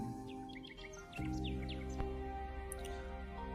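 Small weaver birds call in quick high chirps and short tweets, scattered and fairly faint over a steady low background hum.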